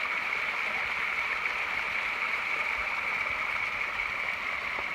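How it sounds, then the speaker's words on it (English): A steady rush of falling water, a small waterfall on the Appalachian Trail heard nearby, constant and even throughout with no voices. "Nice little waterfall here."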